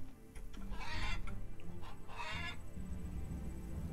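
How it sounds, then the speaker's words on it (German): Two short bursts of rooster clucking from the farm simulation game Farmer's Dynasty ring out over a steady bed of background game ambience. "Ach, das ist der Hahn."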